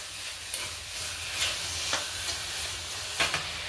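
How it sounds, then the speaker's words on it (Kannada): Carrot halwa stirred in a pan with added dry fruits, a steady sizzling hiss broken by several soft scraping strokes of the spoon at irregular intervals, close and moderately loud. "ಇವಾಗ ಇದನ್ನು ನೀಟಾಗಿ ಮಿಕ್ಸ್ ಮಾಡ್ಕೊಳ್ಳೋಣ"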